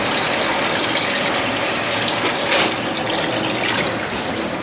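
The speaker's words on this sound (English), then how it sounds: "Sorted, hot water's coming through." Hot water running through newly fitted barn plumbing, a steady close rushing and trickling flow that stays constant with no talk.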